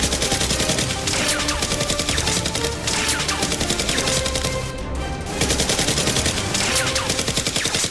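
Rapid, dense bursts of toy blaster fire during a Nerf gunfight in an abandoned neighborhood, loud and nearly continuous rattling shots with one brief pause; no one speaks.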